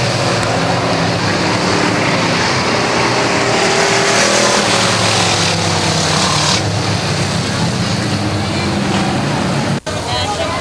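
Race cars on the final lap through turns three and four at Hudson Speedway, New Hampshire, roar loudly and continuously with shifting engine pitch as the pack passes, while an announcer talks over the noise.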